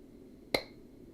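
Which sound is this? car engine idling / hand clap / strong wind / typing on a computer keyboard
hand clap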